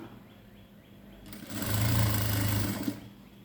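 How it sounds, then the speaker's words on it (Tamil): A sewing machine runs in one short burst, stitching the zip into a long frilled gown. The whir swells up, holds for about a second and a half, then stops, heard close up against a quiet room. "இதை நம்ம மிஷின் மேலே பிடிச்சி தைக்கிறது கொஞ்சம் கஷ்டம்தான்"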